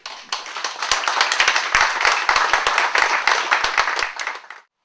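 A small room audience claps at a French-language community gathering. The applause is close, with distinct sharp individual hand claps over a dense wash, lasting about four seconds before it stops abruptly.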